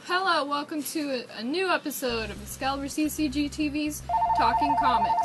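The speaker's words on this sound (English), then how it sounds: "That's a phone. It is the phone." Telephone ringing indoors during a comics talk show, a repeated electronic ring tone pulsing under people speaking and growing steadier and louder toward the end.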